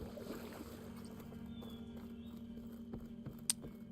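NPC horse hooves clip-clopping in the Red Dead video game, soft and fairly distant beats under a low steady game ambience, ending with a brief sharp click.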